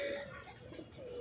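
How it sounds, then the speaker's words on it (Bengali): Male Jalali pigeons coo with soft, rolling calls over a low background rustle. The calls are close and moderately loud, with no talk. "নরগুলোর ডাক খুব সুন্দর, অনেক চমৎকার ডাকতেছে নরগুলো"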